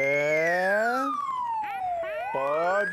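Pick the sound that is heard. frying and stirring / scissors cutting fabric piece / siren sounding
siren sounding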